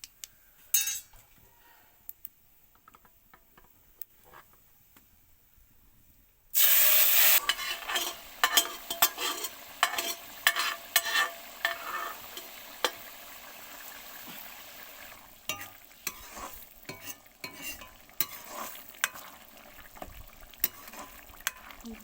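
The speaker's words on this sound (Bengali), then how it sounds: "জিরে আর কারি পাতা দিয়ে আমি এটা ফোড়ন দেবো" Cumin seeds and curry leaves hit hot oil for a ghugni tempering, bursting into a loud sizzle after a quiet start, then crackling steadily with scraping stirs and occasional clinks of a utensil against the pan.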